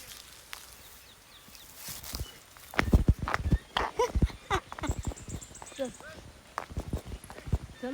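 Hooves of approaching bulls walking on a village path by a tomato patch, a series of close clip-clop steps building from about three seconds onward, with a person speaking over them.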